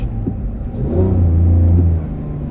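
A Porsche 991.2 GT3 accelerates on a loose surface, its loud engine droning steadily and swelling in the middle before easing slightly. It is close and alone, with no voices.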